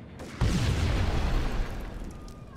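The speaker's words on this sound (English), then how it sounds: "He just appeared out of the explosion." A loud, close explosion in the video game Max Payne bursts in with a sharp onset, then rolls into a long, deep rumble that slowly fades, with no voices.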